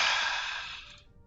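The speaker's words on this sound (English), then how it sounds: "why did you yawn?" A single human yawn: one drawn-out, breathy exhale that is fairly close and slowly fades away over about a second, with no talking.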